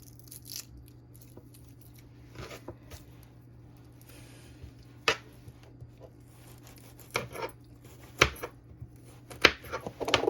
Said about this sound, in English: Now I'm cleaning the garlic. I'll cut them up a little.